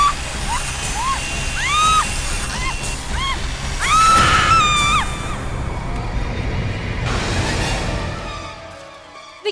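A woman's high, wavering screams ring out several times over a busy background, the longest cry rising and holding before fading.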